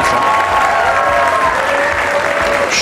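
Studio audience at an Armenian X-Factor audition breaks into loud, sustained applause, a thick continuous roar of clapping with a faint tone lingering beneath.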